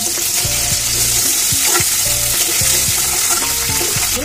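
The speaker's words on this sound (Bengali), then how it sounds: "আমি একটু অ্যারারুট আর একটু লবণ দিয়ে মাংসটাকে একটু হাফ ভাজিয়ে" Chicken pieces coated with arrowroot and salt sizzle loudly in a pan, frying steadily while being stirred, with intermittent clinks and scraping over the continuous hiss and no talking.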